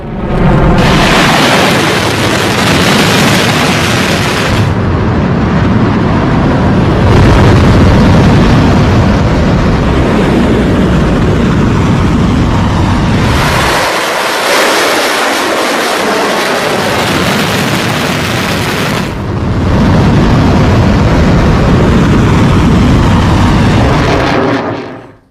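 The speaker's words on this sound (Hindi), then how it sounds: "ईरान ने बैलिस्टिक मिसाइल दाग दी है" An Iranian ballistic missile launch, of the Khorramshahr or Kheibar type, makes a loud, continuous broadband roar that goes on for over twenty seconds, with abrupt cuts between segments and no voices.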